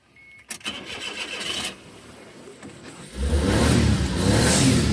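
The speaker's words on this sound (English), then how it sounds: "Oh wow, you can hear the turbo." A used car at the USS Osaka car auction has its engine started and revved, the turbo audible as the idle rises to a loud, steady roar up close in the second half after quieter rumbling and clicks.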